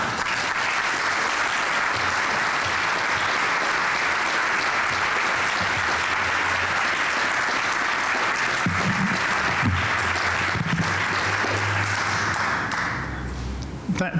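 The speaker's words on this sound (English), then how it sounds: "Thank you all for that warm applause" Sustained, loud applause from a large audience at an education policy event honoring an award recipient, dense clapping continuing for the full length with faint voices and a low hum beneath, tapering at the very end.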